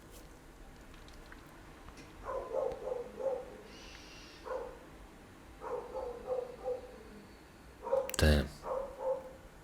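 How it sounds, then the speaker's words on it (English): Several dogs bark in short bursts, some near and some farther off, with a sharp loud burst toward the end and a voice heard briefly over the mix. "Even the dogs are like barking."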